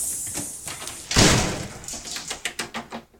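A house door is handled and locked on a windy day: a loud broadband thump and rattle near the middle, followed by a run of short sharp clicks and knocks close by, with no talk.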